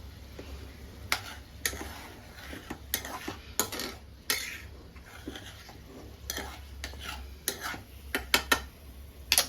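A spoon stirs eggplant, potato and tomato together in a metal pot, sharp irregular clinks and scrapes against the sides over a low, faint sizzle, with no talking.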